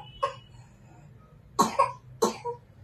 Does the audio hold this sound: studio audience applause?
no